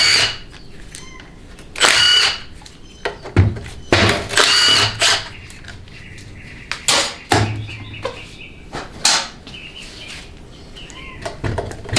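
A power tool backs out half-inch bolts from a Ford C6 automatic transmission cover in several short, close whirring bursts with clanks and handling noises between them.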